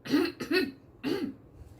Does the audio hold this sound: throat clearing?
yes